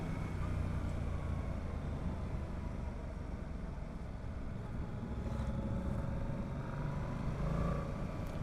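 A Yamaha MT-07 motorcycle rides along a road in the Netherlands, its engine a steady muffled drone under continuous wind rush, heard from the rider's position throughout.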